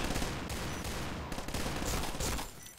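Dense, continuous pistol gunfire in the video game Point Blank rattles throughout, rapid shots overlapping into a loud, sustained barrage with no voices.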